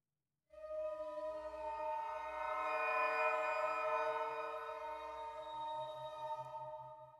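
A single sustained note from a sampled overblown woodwind patch, bright and breathy with rich overtones, swelling slightly before fading out. No other sounds.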